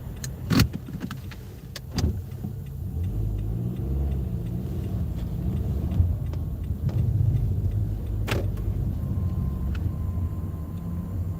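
Car engine running with a low, steady rumble from inside the cabin, broken by a few sharp clicks and knocks, no one speaking.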